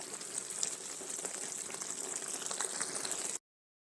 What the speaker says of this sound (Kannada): ಸೋಯಾಬೀನ್ ಹಾಕಿ ಸ್ವಲ್ಪ ಹೊತ್ತು ಕುದಿಸ್ಬೇಕು ಒಂದು ಹತ್ತು ನಿಮಿಷ